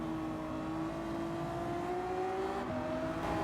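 Race car engines in Gran Turismo 7, a Ford GT holding a high sustained whine that climbs steadily in pitch, then dips and climbs again at a shift, fairly faint and continuous with no talk.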